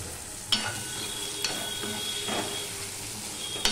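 Chopped tomatoes fry in a pan with spices for a mixed dal, a soft continuous sizzle with occasional clicks and scrapes of a stirring spoon against the pan.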